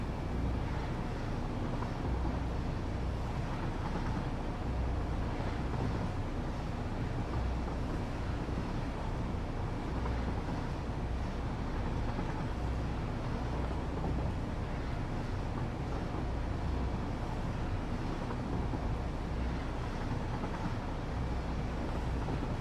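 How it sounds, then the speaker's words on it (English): A train engine climbs a grade in the video game Satisfactory, a steady loud rumbling drone with dense low noise that holds unchanged throughout. "You can hear the engine kicking in as we start going up the grade."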